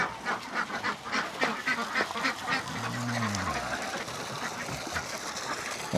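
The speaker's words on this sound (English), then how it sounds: "I got that order of ducks coming right up here" Ducks at a farm pond on a morning chore round, let out for treats, quack in a lively, overlapping chorus, with one clear drawn-out call in the middle over steady background chatter.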